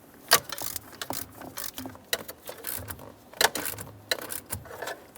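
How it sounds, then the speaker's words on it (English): Close-up mechanic's work on the steering column of a 2001-2005 Ford Explorer Sport Trac, with a 7mm headed bolt being snugged on the driver's side: sharp metallic ratchet clicks and tool clatter in irregular bursts, nearby, with no talking. "snug up your 7mm headed bolt on the driver's side"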